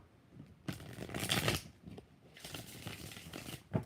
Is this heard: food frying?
no